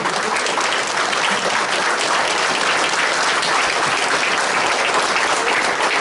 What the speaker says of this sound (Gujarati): આપણે ઊભા થઈને એમને તાળીઓથી વધાવી લઈશું